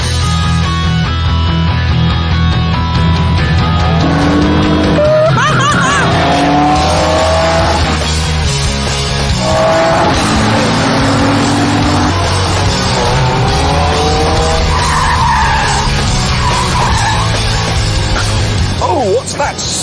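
A car driven hard around a short loop on a test track, with a loud engine revving and changing pitch throughout and tires skidding and squealing, while someone talks over it.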